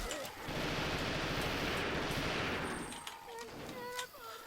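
In the Left 4 Dead 2 video game, rapid automatic gunfire rattles loud and dense for about three seconds, then stops. A few scattered in-game sounds follow.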